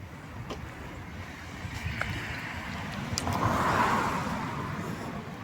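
A car passing by outdoors, its engine noise swelling to a peak and fading, moderately loud with some background traffic ambience.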